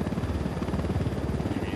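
A helicopter passes by in Ghost Recon Wildlands, a close, steady rotor thump pulsing rhythmically throughout.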